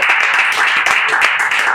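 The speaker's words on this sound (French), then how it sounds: "Et si c'est Kevin, vous applaudissez également." A live audience applauds in a dense, steady wash of many hands clapping at once, loud and close, with no voices over it.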